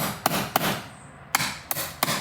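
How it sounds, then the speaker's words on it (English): Hammer blows drive a chisel into wood, five sharp, loud strikes in an uneven rhythm, each with a brief woody ring, close by and with no talking. "It just looks so awkward swinging a hammer like that."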